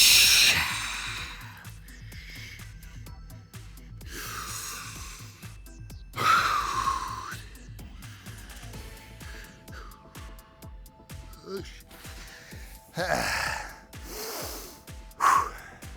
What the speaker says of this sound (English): breathe in through your nose, out through your mouth